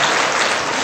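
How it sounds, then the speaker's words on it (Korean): A church congregation claps together during a Sunday service, a dense, loud burst of applause that fills the room and lasts under a second. "한 박수 한번 쳐줘봐요"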